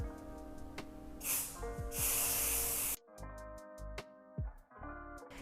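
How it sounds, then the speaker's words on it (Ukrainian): Coccine Water&Dirt Stop impregnation spray, a 250 ml aerosol can, sprayed onto footwear in two close, steady hissing bursts of about a second each, followed by softer clicks and handling noises. "Трошки потрусили балон і на відстані починаємо його розпиляти."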